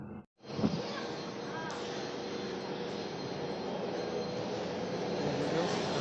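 Aircraft engine roars at a steady, loud level from inside the cabin of a passenger plane, building slightly in intensity, with a voice speaking briefly at the start.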